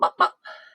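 A hen gives two quick, close clucks followed by a softer, drawn-out trailing call, alone without talk.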